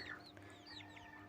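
A black Karinkozhi mother hen with her chicks makes soft clucks while high thin chick peeps chirp repeatedly over it, all faint and close, in a quiet setting.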